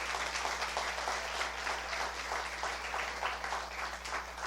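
A church congregation applauds during an Easter Sunday service, a steady wash of many hands clapping together with a low hum beneath, moderately distant and filling the room throughout.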